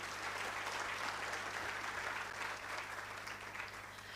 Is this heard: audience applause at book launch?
yes